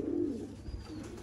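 A pigeon gives a single soft, low coo close by, brief and faint against quiet background noise.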